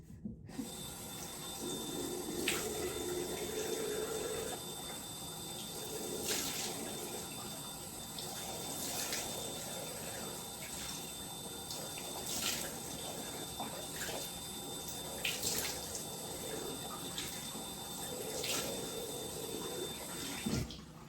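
Water running from a bathroom tap during face washing, a steady close wash with faint splashing and occasional brief clicks, no talking.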